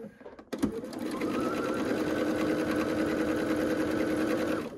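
After a sharp click, a sewing machine stitching quilt pieces for a star-pattern quilt starts up and runs in a steady, fast mechanical whir close by for several seconds, with no voices.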